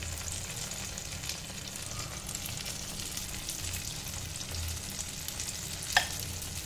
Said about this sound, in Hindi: ये मेरा थोड़ा फ्राई पैन जो है वो बड़ा है, तो मैं ये सारा एक बार में डाल रही हूं।